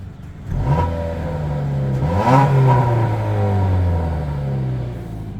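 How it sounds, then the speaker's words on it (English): A 2016 Dodge Dart engine revs up twice close by, rising in pitch then easing back to a deep idle rumble. "Here's a little rev"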